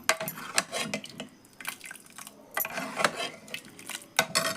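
A metal spoon stirring toor dal in a pot, irregular scraping and clinking strokes against the pot at close range, coming in uneven bursts with short pauses between, and no one speaking.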